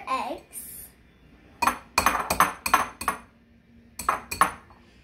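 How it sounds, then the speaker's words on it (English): Eggs are cracked for cupcake batter, sharp knocks and clinks against a bowl come in quick clusters of two and three, with a speaking voice at the start and quiet kitchen background. "now we're going to crack the four eggs"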